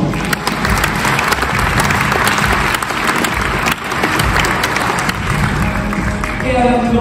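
A large audience gathered to present Vendée Globe 2024 sailing skippers breaks into loud, sustained applause, dense clapping mixed with crowd noise and music, with a brief dip partway through.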